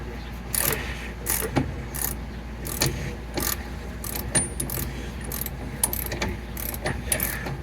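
A ratchet tightens the steering stabilizer link on a 2008 Ford F-150 4WD, making repeated close, crisp bursts of clicking in an uneven rhythm throughout.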